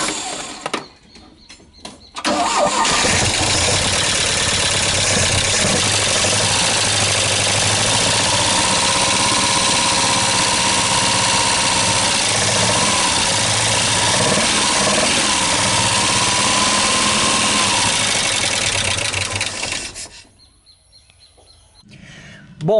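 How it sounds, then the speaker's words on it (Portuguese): A 1978 Chevrolet Opala engine cranks and catches, then idles steadily and loudly for about eighteen seconds before cutting off, with a faint bird chirping in the background. "agora eu vou dar a partida e depois de 5 minutos aí a gente já deve ter alguma carga"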